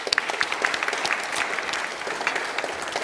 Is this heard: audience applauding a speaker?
yes